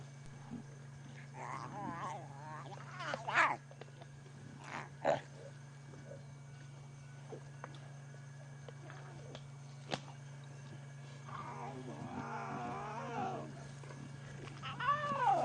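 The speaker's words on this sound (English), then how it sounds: "They're just the sweetest little noises. And one of the things about lion cubs, they are very talkative" Lion cubs on safari make small, intermittent mewing and squeaking vocal noises in scattered bursts over a steady low vehicle-engine hum, fairly faint and at close range.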